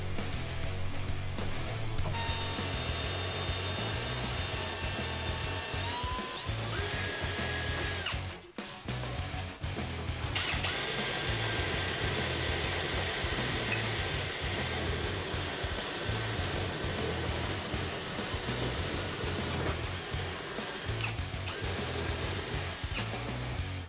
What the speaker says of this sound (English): we're gonna go ahead and just drill the holes on both sides